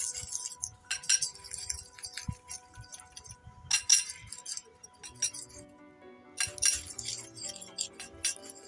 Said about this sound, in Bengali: এই উপকরণগুলি একটা কাঁটা চামচের সাহায্যে খুব ভালো করে এটাকে